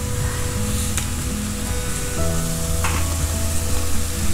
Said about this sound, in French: Allez, l'eau elle bout, on va mettre les pâtes.